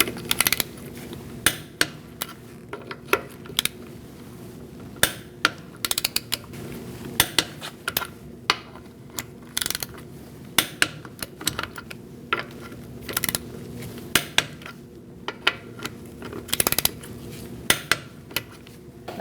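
A torque wrench with a 19mm socket tightens wheel lug nuts on a 2004-2012 Chevrolet Colorado in a crisscross pattern, giving sharp metallic clicks and clanks scattered irregularly over a quiet background, close by.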